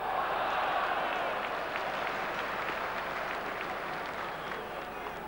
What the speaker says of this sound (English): Applause there for Robbie Elliott.